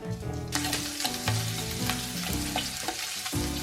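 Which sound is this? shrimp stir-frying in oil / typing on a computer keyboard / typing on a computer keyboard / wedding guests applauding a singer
shrimp stir-frying in oil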